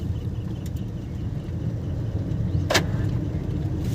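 A car engine runs in second gear during a slow driving lesson, giving a low, steady rumble with a brief clunk partway through, and no voices are heard.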